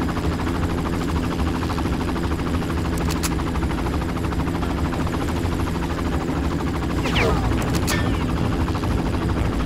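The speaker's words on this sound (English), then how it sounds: "Helicopter." Helicopter in the video game Far Cry, a loud continuous rotor thump and engine drone with a few sharp gunshot-like cracks cutting through.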